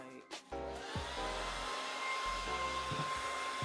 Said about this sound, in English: I'm switching from high to cool on the blow dryer